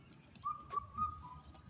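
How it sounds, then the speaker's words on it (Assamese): A koel calls in a quiet outdoor spot, a faint, clear whistled note rising and held across a few short phrases over soft background hum. "কুলি চৰাইৰো মাত শুনি আছোঁ।"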